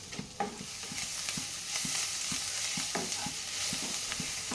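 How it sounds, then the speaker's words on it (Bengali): Onions with chopped green chili and chili powder frying in a pan for onion kachori filling, a constant close sizzle with regular tapping and scraping stirs of a spatula, no voices. "পেঁয়াজটা ভালো মতো করে ভাজা হয়ে গেলে নামিয়ে ঠান্ডা করে নেব"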